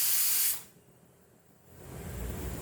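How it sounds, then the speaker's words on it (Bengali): Oil poured into a hot wok gives a sharp, bright hiss for about half a second, then drops away, followed by a quieter low rumble building toward the end. "আর এদিকে কড়াই গরম হয়ে গেছে, তো কড়াইয়ে তেলও দিয়ে দিই"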